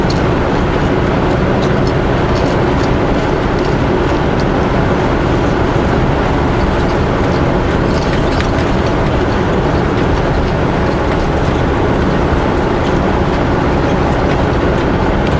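A train passes on railway tracks near the highway over Rogers Pass, heard as a loud, steady rumble and roar that fills the whole stretch without letting up.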